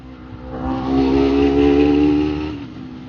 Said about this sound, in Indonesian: Oh ini ambulan yang tadi nih yang kecelakaan, gila ya.